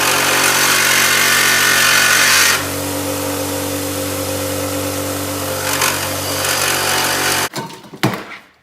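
A power tool cuts through a stud in a garage during engine prep on a turbo Integra with a built B18 VTEC, making a loud sustained whine that drops to a lower drone midway, then spins down with a few short clatters.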